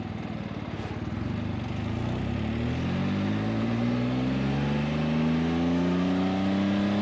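A Can-Am Spyder RT three-wheeled motorcycle drones steadily while riding, its engine note rising smoothly in pitch as it accelerates, loud and continuous with no voices.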